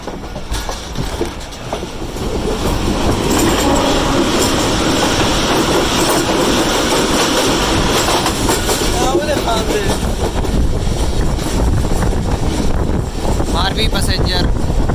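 The Marvi Passenger train runs on rails from Hyderabad toward Karachi with a loud, continuous rumble and clatter heard from aboard, wind buffeting the microphone and a brief voice near the start.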